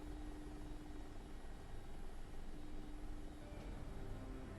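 A Mi-24P Hind helicopter in the DCS flight game drones steadily and loudly throughout, a continuous rotor and turbine roar with a low constant hum and no breaks.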